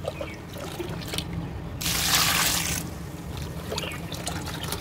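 Cow dung water pours into a kitchen compost heap as one loud, gushing splash of about a second, set against a steady low background.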